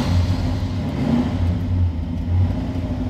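A 1965 Ford Fairlane 500 engine runs steady and close with a low, throaty idle, swelling slightly into mild revs, with no talk over it.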